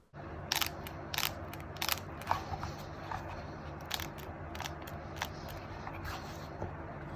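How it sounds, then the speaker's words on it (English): Pressing on the core-crushed 11SIX24 pickleball paddle gives faint crackling crunches like squeezed styrofoam, a handful of sharp brittle clicks clustered early, then scattered quieter crackles, no talk. "it's like styrofoam, it's crunching in there"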